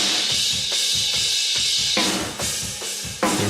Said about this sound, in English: grabbing my 4K on the cymbals and just taming it down